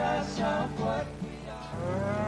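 Cattle low repeatedly during a cattle drive in Montana's Big Sky Country, with several long, overlapping moos that come from close by over a steady outdoor rumble.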